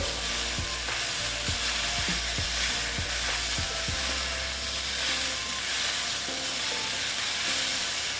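Kochur loti (taro stolon) curry frying in a pan with a steady, loud sizzle. A few rhythmic stirring knocks come early, then continuous frying noise, close by with no talking.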